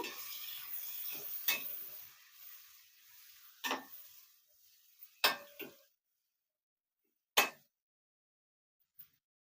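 Chopped green chilies and a sprig of curry leaves hit hot ginger-garlic paste in a pan for a cauliflower curry, giving a soft sizzle with several sharp spoon-on-pan clanks and stirring scrapes that fade to near silence.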